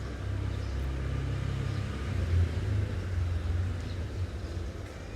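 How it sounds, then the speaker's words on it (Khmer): Traffic noise from motorbikes and cars heard from indoors, a steady low rumble of passing engines with a slight swell midway, continuous and fairly distant, no voices. "វាឮសលេងម៉ូតូឡានអញ្ចឹង"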